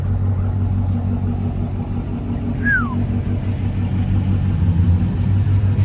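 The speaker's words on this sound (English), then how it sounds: "Listen to that idle though." A straight-piped 2012 Dodge Charger R/T idles with a steady, loud low rumble throughout, its exhaust drone continuous and close, with a brief higher tone sweeping past midway.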